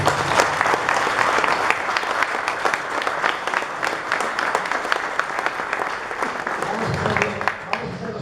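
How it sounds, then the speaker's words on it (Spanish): Steady, dense applause from an audience at a tribute event, many hands clapping together without pause for several seconds, loud and close. "Un aplauso, señores."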